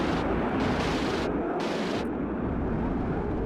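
A ground-attack jet roars in on a strafing run in the Cold War strategy game WARNO, its loud, rushing burst of cannon fire and blast noise surging for about two seconds before fading into a rumbling tail.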